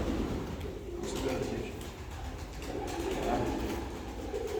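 Fancy pigeons at a breeder's loft in Gemlik cooing softly over a steady background murmur, low repeated coos fairly close but quiet, with no one talking.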